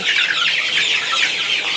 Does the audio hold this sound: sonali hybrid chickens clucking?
yes